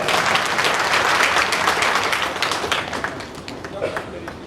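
A crowd claps at a government public meeting chaired by a minister, a dense wash of applause that slowly thins and fades over several seconds.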